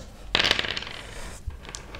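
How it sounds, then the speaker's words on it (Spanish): Three dice rolled in a children's board game clatter sharply onto a hard surface, a bright rattling burst that tumbles and settles within about a second, followed by a couple of faint light taps. "por turno vamos a tirar estos tres dados"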